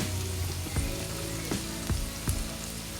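Curry leaves and salt crackling in hot oil for a crab curry, a continuous dense sizzle with sharp pops and spits, close and fairly loud.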